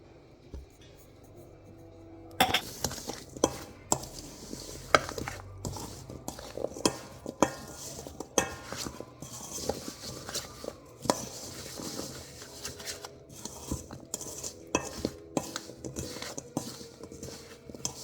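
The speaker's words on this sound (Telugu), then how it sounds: "ఇప్పుడు ఈ పౌడర్ అంతా ఈ దోసకాయలకి వేసి కలిపేయడమే" Cucumber pieces being tossed with spice powder for a Telugu dosakaya pachadi, giving a run of close, irregular scraping and clinking stirs against a bowl, quiet and steady with no talking.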